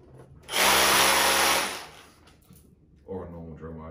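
A power drill bores through a particularly big piece of wood, a loud sustained whine from about half a second to two seconds, then brief voice, followed by a shorter second burst of drilling near the end.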